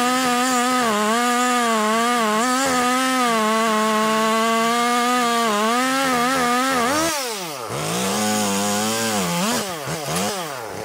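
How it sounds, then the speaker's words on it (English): A Husqvarna 445 chainsaw runs steadily at high revs, then its pitch drops and wavers as it bites into firewood; loud and close, no talking. "that's what you kind of want with your chainsaw."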